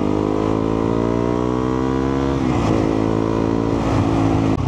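A Husqvarna Svartpilen motorcycle engine revs steadily up close, its pitch climbing through the gears with a brief dip and recovery, loud and continuous with no talk.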